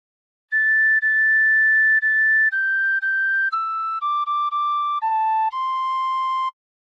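A phrase of House of the Rising Sun on a tin whistle: about nine clear, pure notes played close and loud, some held and some short, stepping gradually downward before a final held note.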